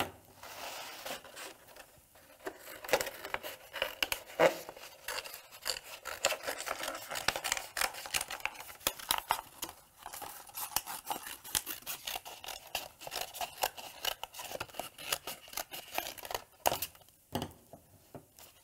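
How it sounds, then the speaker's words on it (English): Scissors trim an infusible ink sheet in a craft session, making repeated close crisp snips and rustling paper scrapes in an uneven rhythm, with no talk. "So I'm just gonna trim it down so it's a little bit easier to work with."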